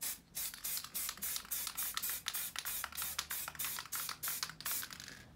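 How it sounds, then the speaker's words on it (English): An aerosol spray paint can fires a rapid series of short test bursts, about a dozen hissing puffs in quick rhythm, close and fairly loud, while a graphite-finish coat is applied to a prop gun; no talking. "Test spray"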